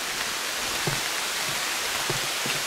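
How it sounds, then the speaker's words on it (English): Steady rain falls in a Brazilian rainforest, a dense even hiss of drops on foliage with no talk, broken by a few faint dull taps and knocks. "Starting to rain."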